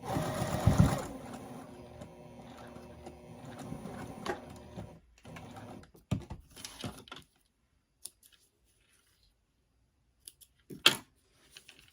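A sewing machine top stitches along the edge of a fabric crossbody bag in a short burst near the start, followed by quiet handling clicks and rustles of fabric.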